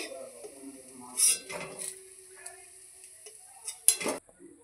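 Metal utensil clinks and scrapes against a pan as fried banana-flower chops are lifted out, with a couple of sharper knocks, over a faint sizzle of frying in the background.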